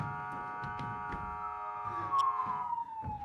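Police patrol car sirens wail steadily and fairly loud throughout, the tone gliding downward near the end over scattered low thumps and background bustle.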